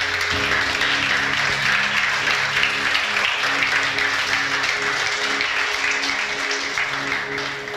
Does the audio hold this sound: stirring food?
no